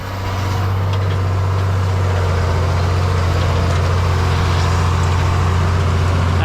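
A Ford TW25 tractor pulling a big Deutz disk rumbles with a loud, steady low engine drone, close and continuous throughout.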